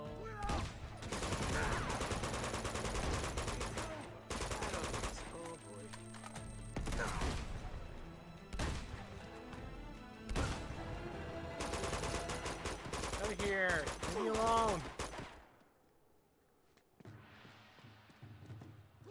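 Machine gun and shotgun fire in the Uncharted 2 video game: dense, loud bursts of rapid gunfire with mechanical clatter, broken by brief pauses, then dropping to a quieter stretch near the end.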